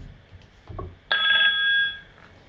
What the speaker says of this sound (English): you see there it's calling on the phone